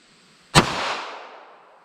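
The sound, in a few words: gunshot from .380 ACP pocket pistol, Winchester Silvertip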